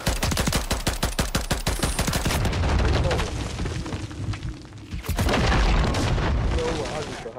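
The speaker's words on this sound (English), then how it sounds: "I hit him with a grenade" A grenade explosion in Call of Duty: Modern Warfare III, a deep booming blast heard after a long stretch of rapid automatic gunfire, with voices talking over the battle noise.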